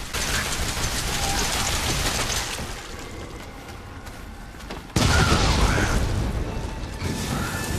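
Remote bomb detonating in Resident Evil 7, a sudden loud blast that cuts in after a stretch of rumbling noise, followed by crackling debris and a roaring tail.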